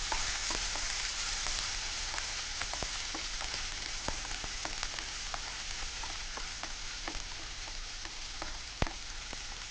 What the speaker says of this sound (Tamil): நான் குறைச்ச தீயில் வெங்காயத்தை போட்டிருக்கேன்